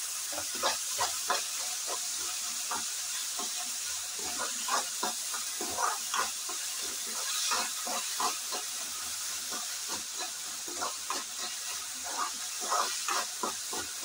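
Spices with turmeric and salt fry in oil for misal, producing a continuous soft hiss broken by frequent small pops and crackles, close and fairly quiet, with no voices.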